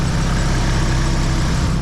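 A Nissan SR20 engine fitted with a Garrett T28 turbo idles steadily after an exhaust gasket replacement, a loud, even, broadband rumble close by with no talking.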